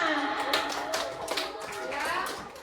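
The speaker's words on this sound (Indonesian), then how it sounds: "Kita beri tepuk tangan dulu buat semuanya" A classroom of children claps for their classmates after a discussion lesson, a brief burst of quick, dense hand claps with a voice faintly mixed in.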